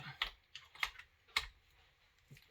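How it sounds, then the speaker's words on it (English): A heavy torque wrench clicks while the cylinder is being reinstalled on a Husqvarna 266SE chainsaw: four or five sharp, close, quiet clicks in an uneven rhythm, with near silence between them. "Click. That's a torque wrench."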